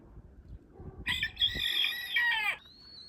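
A young black chicken of unknown sex gives a short, raspy crow in the open air, close and clear, rising then breaking off after about a second and a half, with quiet background noise before it and no talking.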